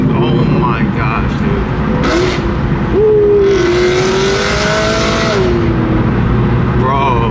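Close and loud, a BMW E92 fitted with an aftermarket exhaust revs hard, the engine pitch sweeping upward and holding before easing off, with voices talking underneath.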